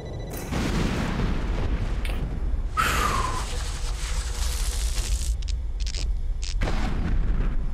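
A missile explosion in Metal Gear Solid: The Twin Snakes, a heavy boom with a rumbling tail, followed by a few sharper bursts and blasts, loud and close.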